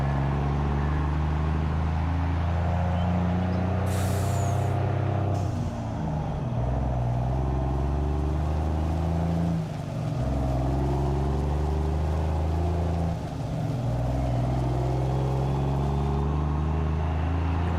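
A truck pulling a trailer in the Farming Simulator 22 game accelerates with a loud, steady droning engine hum, the pitch shifting in a few gear changes, with brief hissing bursts early on.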